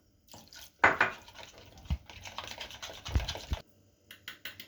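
A spoon scrapes and clinks against a bowl while stirring ground pepper chili powder, salt and black pepper into water for an eggplant and meatball dish, close-up bursts of scratchy stirring with brief gaps.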